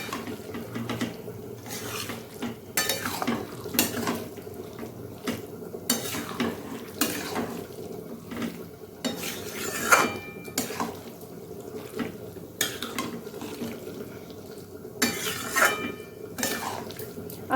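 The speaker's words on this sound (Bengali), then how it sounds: "আর স্বাদ মতো নুন দিয়ে এটাকে নেড়ে নেব।" Taro greens with turmeric and salt are stirred in a pan by a utensil that knocks and scrapes in irregular clanks over a soft background hiss.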